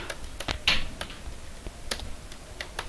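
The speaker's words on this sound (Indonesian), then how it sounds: "Kita tinggal ketikkan perintah cd." Someone types a short Linux cd command on a computer keyboard, a handful of separate crisp clicks spaced irregularly over a few seconds against a quiet background.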